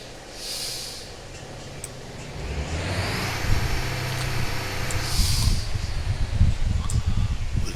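A crane's engine throttles up in the video game Motor Town, a low rumble that swells and grows louder and rougher over several seconds, with no talking.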